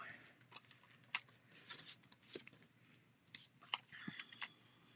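Scissors snip repeatedly through card edges, a series of close, crisp cuts in irregular rhythm, with quiet rustling of paper between them.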